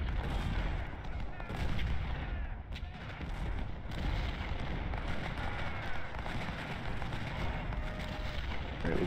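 Cannon fire booms and rumbles continuously through a Civil War battle in the Ultimate General Civil War video game, a dense, far-off barrage of artillery and musketry layered into a steady roar without breaks.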